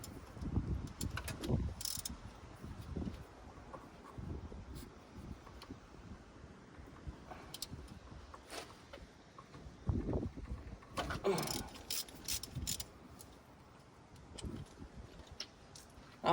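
Ratchet work pulls spark plugs from a Ford Falcon engine under restoration, giving quick clicking bursts and metallic tool rattles amid rustling and breathy handling noise, recorded close.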